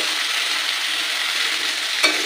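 Continuous hiss of frying eggplant and pumpkin with a scraping stir in a small wok, ending in one quick clink of the utensil.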